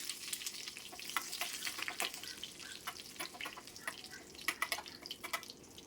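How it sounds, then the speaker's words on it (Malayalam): Mustard seeds, dried red chillies and curry leaves splutter in hot oil, a dense run of sharp pops and crackles over a soft steady sizzle, close and fairly quiet. "കടുക് ഇട്ട് കൊടുക്കാം. കടുകൊന്ന് പൊട്ടട്ടെ."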